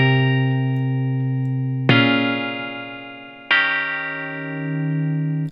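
An electric guitar runs through an amp simulator plugin. Three sustained, distorted chords ring out in turn, each struck and then left to decay, with no talking.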